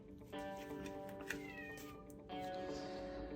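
A cat meows close by, giving a couple of drawn-out, whiny calls over a low background hum.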